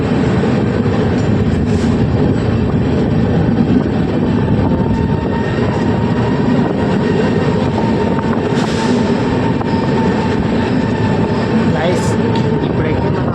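Onboard the 22707 Visakhapatnam–Tirupati superfast express, a loud, steady rumble of the running train fills the whole stretch, with rail clatter and faint background voices mixed in.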